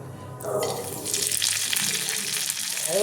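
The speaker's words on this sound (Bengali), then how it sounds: "দেখো একদম কম তেলে ভাজবো ওটা বেশি তেল দেব না" Fritters wrapped in pumpkin leaves with dried fish paste, Bengali style, start frying in a small amount of oil, a dense steady sizzle swelling after they drop into the pan and holding close and loud.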